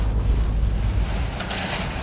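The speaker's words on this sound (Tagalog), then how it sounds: "halos zero visibility sa lakas ng buhos ng ulan at hampas ng hangin" Strong wind with driving heavy rain in a storm in Cauayan City, a loud steady roar with wind buffeting the microphone throughout, alone with no talk.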